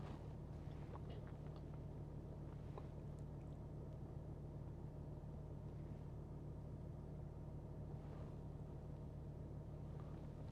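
A 2015 Land Rover Discovery 4 engine idles steadily, a quiet, constant low rumble that holds unchanged throughout with no talking over it.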